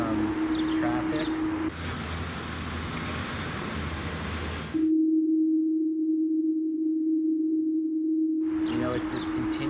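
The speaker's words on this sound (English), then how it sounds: "It's this continuous hum." Mysterious steady low hum recorded in Rochester, a pure drone held unbroken for several seconds, alternating with stretches of broader rumbling noise.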